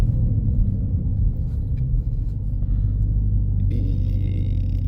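Deep, steady engine rumble inside a moving Dodge Hellcat Widebody, a loud low drone with slight road scrape and a brief higher whine near the end.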